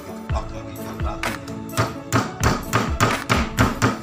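The cover of a 10 kg washing machine motor is knocked into place with a series of firm taps, about eight distinct thumps, close and fairly loud, the strikes coming faster and more evenly toward the end.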